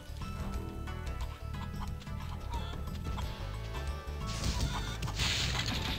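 Chickens clucking in Spyro the Dragon, busy game-world clucks and ticking effects over background music, with a crash-like burst building near the end, fairly quiet overall.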